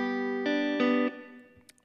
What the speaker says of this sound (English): And then I'm arpeggiating, which means I'm kind of picking through the chords rather than strumming it.